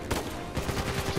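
Shotgun fire in the video game Uncharted 4, several loud booming blasts in quick succession, close and punchy.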